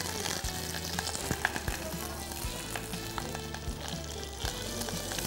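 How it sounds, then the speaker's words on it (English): Mustard seeds and curry leaves sizzling in hot oil as a tempering for yogurt rice, with a dense crackling fry and soft pops under a low background hum. "for the yogurt rice, I'm going to prepare a tempering of mustard seeds and curry leaves"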